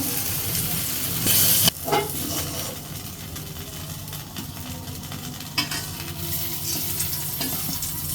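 Eggplant slices fry in a hot pan with a steady close sizzle and crackle, broken by occasional stirring scrapes and utensil clinks, with no talking.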